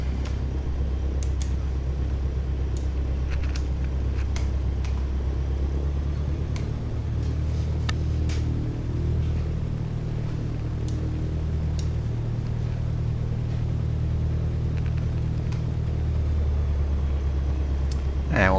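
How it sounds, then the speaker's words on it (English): A Cessna 152 light aircraft's piston engine idles with a low steady drone while taxiing out, with faint clicks and rattles over it and occasional talk. "Now we're going to taxi out and complete the before takeoff checks with the run-up."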